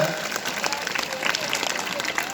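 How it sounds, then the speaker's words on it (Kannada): Audience clapping at a government higher primary school children's entertainment program during the Neeralagi festival, a steady dense patter of many hands filling the space, with faint voices and whistles mixed in. "ಚಪ್ಪಾಳೆ ತಟ್ರಿ ಎಷ್ಟು ಚಂದ"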